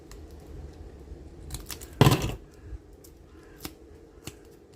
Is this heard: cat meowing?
no